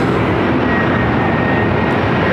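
An airliner takes off from runway 24 left at LAX, its jet engines a loud, steady broadband roar that fills the whole moment without letting up.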